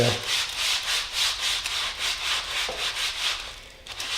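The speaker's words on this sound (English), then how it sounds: "kind of sanding it down to where it looks right and it feels right" Sandpaper rubs back and forth on a live oak hammer handle for a railroad spike hammer in quick, steady strokes, close and clear, with no talking.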